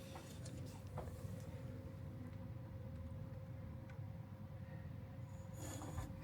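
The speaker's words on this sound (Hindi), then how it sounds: "बहुत सारी ट्रेनें हैं आसपास।" Trains at a large railway station yard in the evening, a steady low rumble of rail traffic with faint wheel squeal, a hum and occasional clanks continuing throughout at moderate distance.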